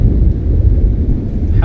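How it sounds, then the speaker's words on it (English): Low, continuous rumble of thunder in Kerbal Space Program, rolling steadily at close range with a broadband rush like rain or wind over it, no speech. "Hello, Thunder."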